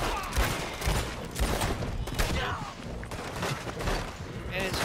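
Rapid gunfire from a Red Dead Redemption-style Western video game, a dense continuous barrage of shots and cracks filling the whole span, with game noise layered underneath.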